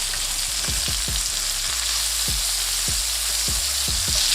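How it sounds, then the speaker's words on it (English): Lamb chops sizzle steadily in a hot frying pan, a loud continuous hiss broken by a series of sharp clanks and scrapes as the chops are turned, with no voices. "I'm just gonna turn them around and get a nice color on this side as well."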